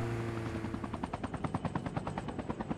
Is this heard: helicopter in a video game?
yes